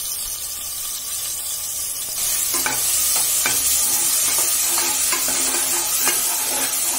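Masala paste hits hot oil in a pressure cooker, setting off a loud steady sizzle with scattered clicks and scrapes of stirring, no talk over it.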